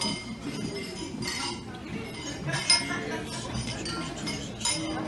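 Glasses chink together at a wedding toast, several light clinks scattered through a cheerful crowd, with people talking and cheering around them.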